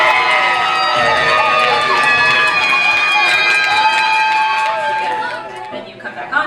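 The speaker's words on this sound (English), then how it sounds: "Make some noise for Sadie Edie" A dense crowd roars and cheers continuously as a performer is called to the stage, with shouts and whoops layered in a loud, close wash of noise that eases slightly near the end.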